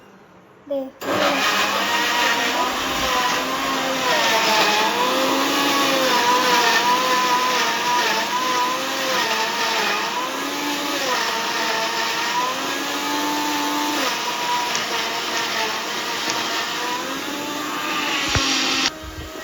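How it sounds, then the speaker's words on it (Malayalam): A mixer grinder blending carrot milkshake whirs loudly and steadily after a short start, its motor pitch wavering as the contents churn, then cuts back near the end. "വീണ്ടും മിക്സിയിൽ അടിക്കുകയാണ്."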